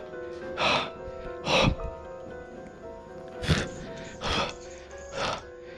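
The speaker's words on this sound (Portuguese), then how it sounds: "escuta a respiração" Heavy breathing in a horror game comes as five separate raspy, gasping breaths at uneven intervals, each short and close, over a low, steady tonal drone.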